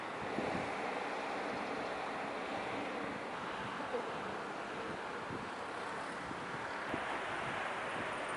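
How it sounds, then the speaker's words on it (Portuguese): Wind blows at the seaside on the Sicilian coast, making a constant broad rush and buffeting against the microphone, steady and fairly faint with no clear breaks. "o vento vai cortar o vídeo"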